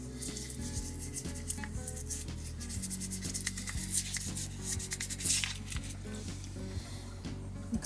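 A brush scrubs loosened residue off a Splendide WCD2200XCD washer's laundry dispenser drawer, with continuous close rubbing and scraping strokes and occasional plastic knocks and clatters.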